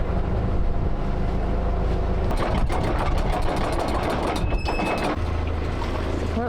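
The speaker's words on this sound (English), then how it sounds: "We are starting engines now." Boat engines run as a steady, loud low drone throughout, with a burst of rattling, clattering mechanical noise in the middle before the hum settles back.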